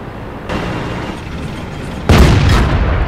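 A tank shell strikes armor and glances off in World of Tanks, a sharp metallic boom landing over a steady engine rumble, followed by a louder burst of impact noise that lingers.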